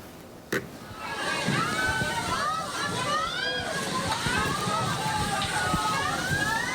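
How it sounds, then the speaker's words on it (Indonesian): Flash flood waters of the overflowing Cikaso River in Sukabumi, West Java, sweep cars away after heavy rain. The torrent makes a loud, steady rush that follows a brief sharp knock, and raised voices sound over it throughout. "Sejumlah mobil hanyut terbawa arus banjir bandang di Kabupaten Sukabumi, Jawa Barat."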